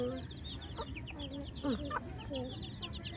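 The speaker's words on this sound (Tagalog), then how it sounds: "Yun o, dami sisiw." A crowd of chicks cheeps in quick, high-pitched peeps at a farmyard, faint and close together, with soft low background noise and a few louder chirps standing out.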